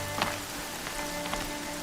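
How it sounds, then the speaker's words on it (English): Steady rain falls in Horizon Zero Dawn as a continuous, even wash of patter across rocky terrain, with a few brighter drop splashes and faint tonal game ambience underneath, and no talking. "Raining like it's trying to wash everything away."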